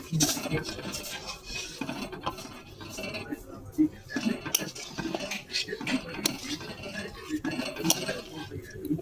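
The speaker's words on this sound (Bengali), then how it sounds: "এইভাবে একভাবে নেড়ে যেতে হবে যাতে নিচে না লেগে যায়।" Milk boiling in a wok, stirred steadily for rosogolla, with a utensil clinking and scraping against the metal pan in a busy, continuous clatter at close range.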